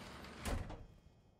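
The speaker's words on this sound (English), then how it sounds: "Open the door." A door opening in Wasteland 3, a single short scraping slide with a soft thud, close and fairly quiet, fading quickly into a low hum.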